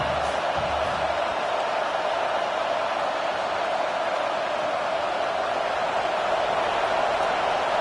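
A stadium crowd in a video game football broadcast roars steadily, a dense, constant wash of cheering and noise that holds at an even level throughout without breaks.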